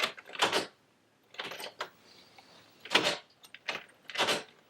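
A door being shut and a newly installed deadbolt locking during locksmith training, heard as several separate clunks and metallic clicks spaced across a few seconds with quiet gaps between them.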